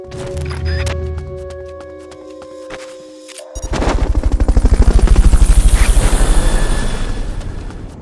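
A helicopter in the video game Metal Gear Solid Peace Walker, entering after a burst of gunfire-like effects and then thumping loudly with fast, rhythmic rotor beats that swell and slowly fade.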